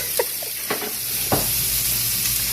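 Vegetables sautéing with mild Italian turkey sausage in a pan, a steady close sizzle broken by a few scraping stirs of a utensil, with no talk.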